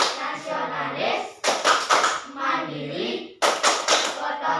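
A class performing rhythmic Tepuk PPK hand clapping, with two bursts of sharp, fast claps set between stretches of chanting voices.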